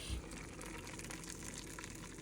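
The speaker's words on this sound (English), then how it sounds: "We are going to go ahead and take our kettle that just boiled and fill it up with water." Water pours steadily into a container from a kettle that has just boiled, a continuous rushing gush with a soft low thump at the start, heard on its own in a kitchen.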